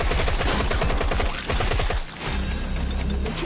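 Rapid, continuous automatic gunfire from a heavy weapon in a zombie shooter video game, loud bursts of dense repeated shots with a short dip midway before firing resumes.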